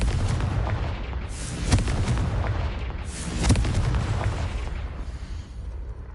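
Confringo blasting spell exploding in the Hogwarts Legacy video game, a dense roaring blast with two sharper booming bursts and a rumbling tail, loud and close with no talk.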